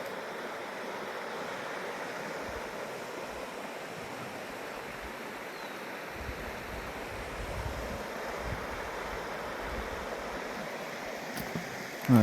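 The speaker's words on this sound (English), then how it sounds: "There's a little creek in front of me right here too." A small creek flows steadily along a greenway trail, a broad continuous wash of water at close range, with a faint brush of wind and a sharp knock at the very end.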